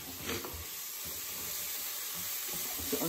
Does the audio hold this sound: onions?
yes